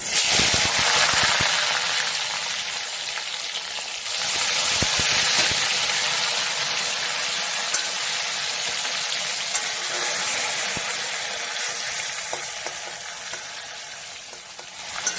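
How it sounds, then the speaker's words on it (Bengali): Onions with cardamom and bay leaf hit hot mustard oil for a mutton keema and cabbage dish, giving a loud, continuous close sizzle that surges briefly and then holds steady throughout. "পেঁয়াজটা আমি একটু লাল লাল করে ভেজে নেবো"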